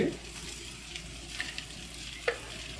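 Chicken with garlic and pepper frying in butter in a pan: a soft, steady sizzle with a few light scraping stirs, fairly quiet and close.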